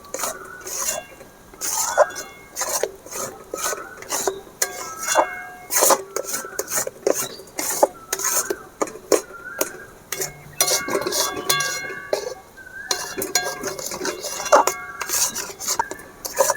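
Spoon scraping and clinking against a pan while raw green mango pulp is stirred over low heat, a steady run of small metallic taps and rubbing strokes, close and fairly loud with no voices.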